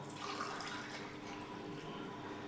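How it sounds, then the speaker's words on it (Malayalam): Homemade lemonade poured into a glass, a steady liquid stream running for about two and a half seconds at close range with no voices. "ഇതാ നമ്മുടെ സ്പെഷ്യൽ നാരങ്ങ വെള്ളം റെഡിയായി അത് ഗ്ലാസ്സിലേക്ക് പകർത്താം"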